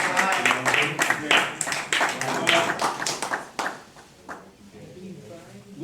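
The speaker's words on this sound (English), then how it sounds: "Guys, let's give them a round of applause." People at a neighborhood association's monthly meeting give a round of applause, quick, rhythmic clapping from a modest crowd that fades out after about three and a half seconds, leaving quieter room sounds and voices.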